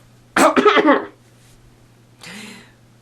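A short burst of harsh coughing, two or three quick hacks close up, followed after a pause by a softer, breathy cough or throat sound.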